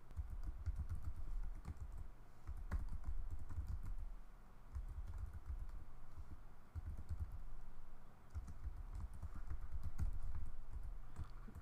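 Fingers type on a computer keyboard while editing an SSH authorized keys file, giving close, soft key clicks in bursts separated by short pauses.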